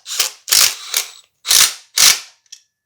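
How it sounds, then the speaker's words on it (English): Ratchet clicks in short bursts while a steering bearing is tightened on a $500 Predator frame, five close, loud bursts of rapid clicking with brief gaps between them. "now that the upper mount is in, we can go ahead and tighten down this bearing"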